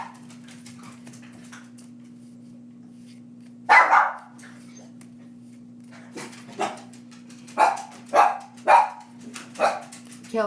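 Several dogs bark in loud bursts, one sharp bark then a quick run of barks, over a steady low electrical hum.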